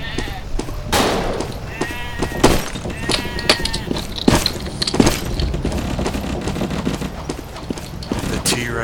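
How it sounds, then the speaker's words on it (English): A goat bleats amid the noisy battlefield of the dinosaur shooter Dino D-Day, with thuds, hoof-like clatter and gunfire-like bursts around it, mixed under loud game sound rather than alone. "I'm gonna kill this goat because it's a goat."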